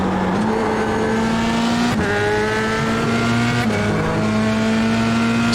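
Formula 3 race car engines in the iRacing game at Okayama, a loud sustained high-pitched whine that climbs through the revs with sharp breaks at two gear shifts, another car droning nearby.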